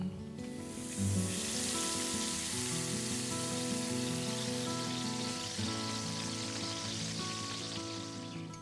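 Walleye fillets fry in a hot pan at a lakeside fishing lodge, a continuous crackling sizzle heard up close. Steady music plays underneath throughout.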